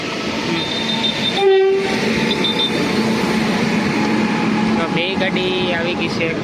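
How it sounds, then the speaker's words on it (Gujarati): Trains meet at a rural single-line crossing station, one pulling in with a steady rumble while its horn blasts briefly; a bell-like tone and whining, screeching wheels also rise over the close, loud rolling noise. "ગાડી આવી ગઈ છે એક બાજુ."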